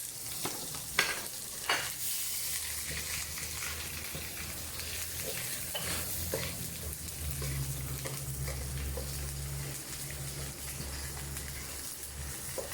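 Onions frying in a pan for a crab dish, a steady, close sizzle with occasional sharper clicks and scrapes as they are stirred, running continuously without talk.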